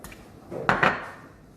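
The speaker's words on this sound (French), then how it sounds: "nous allons couper les tomates" A knife slices through fresh tomatoes on a board while making a tart, giving two quick, close, soft cutting taps in near silence.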